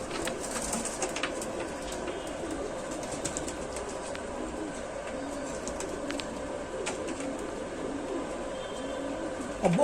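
Rampuri pigeons with mom chonch beaks coo softly and steadily in a continuous low murmur, with faint background noise and occasional sharp clicks, and no talking over them.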